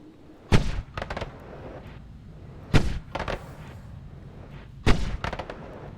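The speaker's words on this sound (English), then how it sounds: "those explosions will damage you" Explosions from earth essence in the video game Noita: three sharp, heavy booms spaced about two seconds apart, each trailed by a few smaller cracks and rumbling debris, loud and close with no talk.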